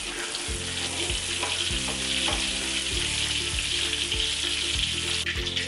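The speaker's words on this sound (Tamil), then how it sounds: "இப்போ நம்ம இந்த பரங்கிக்காவை பொரிச்சு எடுத்துக்கலாம்" Pumpkin pieces for Malaysian mee rebus deep-fry in hot oil with a loud, dense, continuous sizzle close up, while a rhythmic low mechanical hum pulses underneath and no one speaks.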